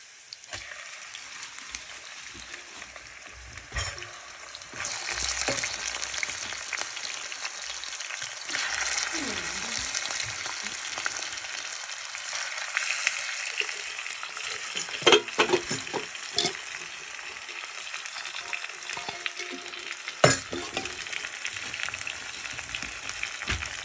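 Onions frying in a pan for a meat curry, a soft steady sizzle with occasional stirring clinks and scrapes that grow busier toward the end.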